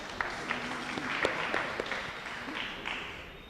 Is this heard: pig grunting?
no